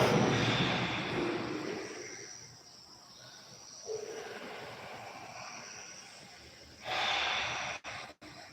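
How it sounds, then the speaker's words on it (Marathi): Slow, deep breaths are drawn in and pushed out as a breathing exercise, heard as long, soft airy swells close to the mic with quiet pauses between them. "एक मोठा दीर्घ श्वास सोडा."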